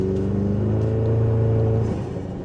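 A fourth-generation Toyota Tacoma engine fitted with an aftermarket Sixth Element intake accelerates. A loud, close, steady engine drone with rising tones swells and then eases off, and no one talks.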